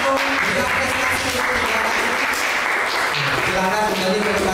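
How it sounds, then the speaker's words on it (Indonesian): Students in a classroom applaud continuously, a dense wash of clapping mixed with chatter and voices throughout. "Berarti silahkan tepuk tangan atau berikan prestasi"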